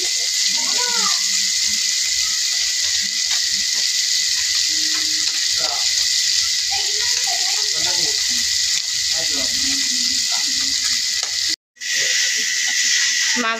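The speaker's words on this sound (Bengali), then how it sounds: "এই যে মাছটি ভাজা হয়ে গেছে, আস্তে আস্তে ভাজছে" Fish fries slowly in a pan with a constant loud hissing sizzle that runs throughout, while a voice talks over it and a brief dropout cuts in near the end.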